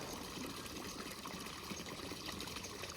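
Water from a fountain splashes and trickles steadily into a fish pond, a continuous broadband rush that stays even and unbroken throughout, with no voices.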